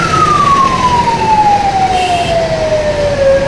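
An ambulance siren wails loud and close while stuck in a traffic jam on the Gandhi Setu bridge in Bihar, its single tone sliding steadily downward over steady road rumble.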